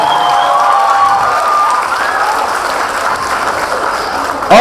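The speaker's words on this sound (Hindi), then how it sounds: "थैंक यू, तालियां बजा दीजिए।" An audience at a Durga Puja stage show in Venice claps steadily and loudly for several seconds, a dense wash of applause with a few faint calls mixed in.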